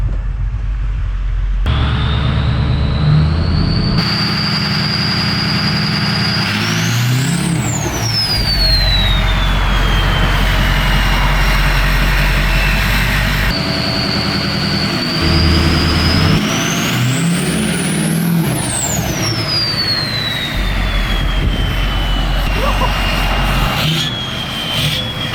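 A 6.0L Powerstroke diesel truck fitted with oversized injectors drives steadily with a loud, sustained engine drone, rising and falling with gear changes, with whining pitch sweeps as other vehicles pass close by.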